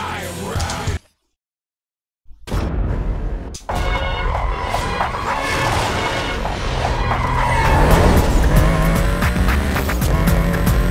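Race car engine and tire squeal in the Need for Speed Most Wanted video game: a brief silence, then a loud continuous engine roar with rising revs and screeching tires.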